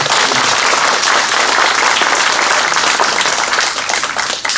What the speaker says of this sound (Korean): 여러분들 만약에 같은 생각이시라면 한번 힘찬 박수 한번 보내주십시오